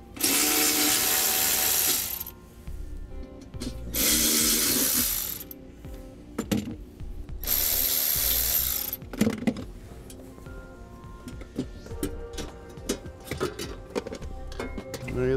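A T30 Torx bit, likely on a power driver, backs out screws on a 2016 Mercedes-Benz during a trailer brake controller install: three loud sustained whirring bursts, then scattered clicks and clattering parts at close range.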